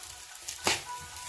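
Noodles hit a hot pan of spinach with a sudden, loud burst of sizzling that then settles into a steady frying hiss.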